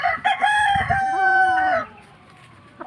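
A Gull Roundhead gamefowl stag crows once, close and loud, in a drawn-out call that lasts almost two seconds before it stops abruptly.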